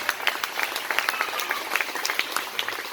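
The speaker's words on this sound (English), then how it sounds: "give him a round of applause" Wedding guests at a reception applaud after the best man's speech, a moderate, scattered patter of many hands clapping at medium distance.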